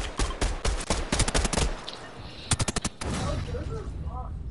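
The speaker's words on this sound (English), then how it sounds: "Ooh, somebody's shooting." Fortnite gunfire: rapid bursts of automatic shots in quick clusters, a short pause, then another tight volley, with game ambience around them.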